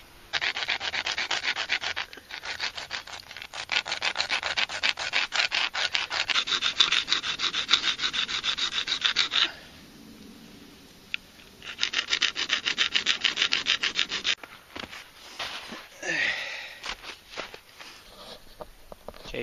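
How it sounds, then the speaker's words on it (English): A wooden dowel shaft for an Ishi stick flintknapping tool is ground down with a long, steady rasping rub that stops for a short pause and then returns in further close bursts. "So I'm just going to grind that down a little bit and grind this one down."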